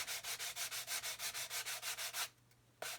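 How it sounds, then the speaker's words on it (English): Rhythmic hand sanding of a model kit, a quick back-and-forth rasp repeating steadily and close, then stopping briefly before one more stroke begins. "And you can see where I'm sanding."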